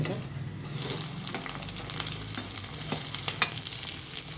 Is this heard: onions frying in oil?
yes